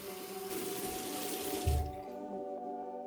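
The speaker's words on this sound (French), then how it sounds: "c'est l'heure de rincer le visage à l'eau fraîche" Fresh tap water runs steadily into a bathroom sink while a face is rinsed by hand, a close, continuous splashing flow that thins out toward the end.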